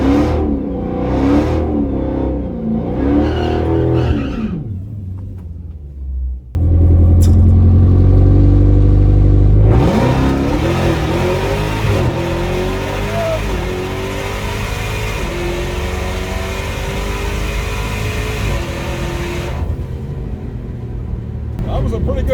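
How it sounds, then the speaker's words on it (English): A powerful Dodge Demon 170 engine rumbles loudly, then roars as it accelerates hard down a drag strip with a sustained, rising whine that holds for several seconds before fading. "First pass with the new engine on the Demon 170."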